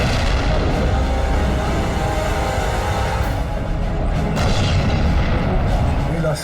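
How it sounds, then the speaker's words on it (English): Tank battle in the North African desert during World War II, with artillery fire and gunfire forming a loud, dense rumble of booms and shots that never lets up, a voice faintly mixed in. "And then, of course, a tank battle started."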